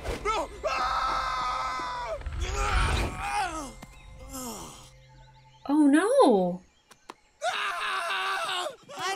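A cartoon character from The Legend of Korra screams and wails in several loud, strained bursts, with other animated voices and effects around them.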